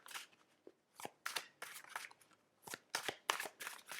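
Oracle of Visions cards being shuffled by hand, a series of crisp papery riffles and flutters in irregular bursts, fairly close and moderately loud, with no voices over them.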